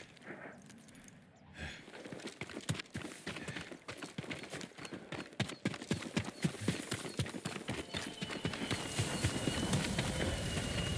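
Hooves clip-clop in a quick, steady rhythm, growing louder and denser as a farm horse gallops closer in the video game Ghost of Tsushima.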